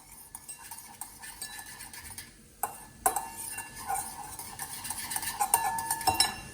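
Whisk or fork beating a mixture in a bowl for beetroot paneer masala, a quick run of clinks and scraping strokes against the bowl that grows busier and louder toward the end, with no talking.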